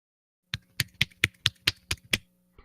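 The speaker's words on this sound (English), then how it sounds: "Why am I clapping with one hand?" Eight sharp hand slaps in a steady rhythm, close and crisp, followed by a brief pause and one softer tap; no one speaks.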